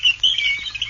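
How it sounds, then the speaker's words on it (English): Birds in a swamp give a brief burst of thin, high chirps, a few quick calls close together at moderate volume. "This is the sound of a swamp."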